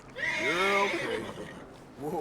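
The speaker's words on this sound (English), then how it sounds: "This is like the easy way of taming a horse because it's already tamed." A horse in Red Dead Redemption 2 lets out a loud, close whinny that falls away, then a brief second snort-like neigh begins at the end.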